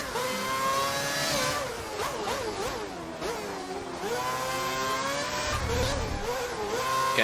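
F1 car engine on a qualifying lap at Singapore in an F1 racing game, a loud high-revving whine climbing and dropping sharply through gear changes and corners, continuous and close, with a voice talking faintly underneath.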